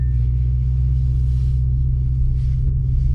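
A tuned 720bhp 2020 Audi RS6 gives off a loud, steady, deep rumble from its engine and exhaust, a continuous low drone without clear revving.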